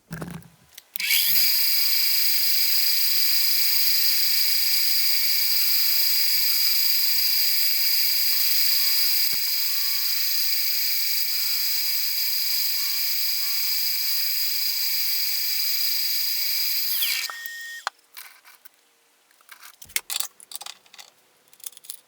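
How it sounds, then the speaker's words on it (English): A milling machine with a 2mm cutter machines a brass key in a workshop, a loud, steady high whine that runs for about sixteen seconds before winding down into scattered clicks and handling noises. "Now the milling machine doesn't really get fast enough to properly use these 2mm cutters, but brass is pretty forgiving"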